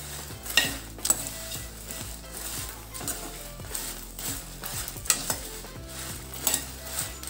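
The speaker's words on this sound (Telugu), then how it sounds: "ఇలా బాగా వేయించుకోవాలి." Seeds frying with tamarind in a pan, giving a continuous light sizzle under repeated metallic stirring and clinks of a spoon against the pan, close up and without speech.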